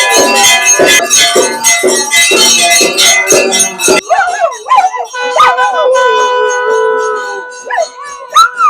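Temple bells clang rapidly during aarti, then stop, and dogs begin howling in long, wavering, rising and falling cries, with a few yips and renewed howls near the end.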